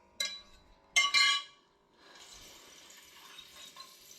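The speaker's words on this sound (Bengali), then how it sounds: "একটু কলের জলটা চালা বাবা, কলটা চালা একটু" After a couple of sharp clinks near the basin, a kitchen tap opens and water runs steadily into the sink with a soft, continuous splashing hiss.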